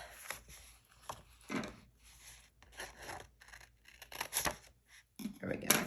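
Scissors cut the edge off a paper planner page: several dry rasping snips and rubs, close and fairly quiet, spread over a few seconds between short pauses.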